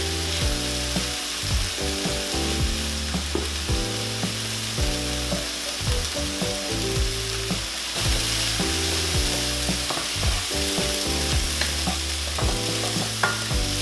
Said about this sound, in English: I'm adding the mushrooms to the pan.